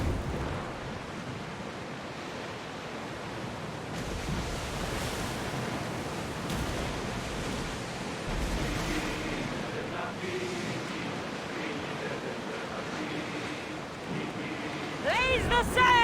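A ship in Assassin's Creed Odyssey sails through ocean waves, with a steady broad rush of water and wind against the hull that swells and ebbs throughout while crew voices call out over it.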